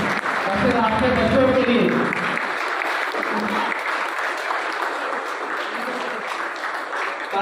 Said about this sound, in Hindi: Can you please stand up to give them big applause.